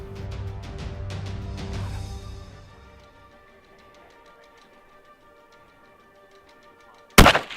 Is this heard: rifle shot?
yes